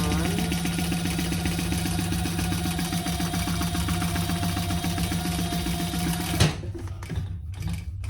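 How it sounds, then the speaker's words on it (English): A sewing machine runs steadily, stitching a seam on a black and blue patterned crossbody bag, with a close, even mechanical whir and rapid needle rhythm that stops abruptly near the end, followed by faint handling sounds. "Just going to sew that on."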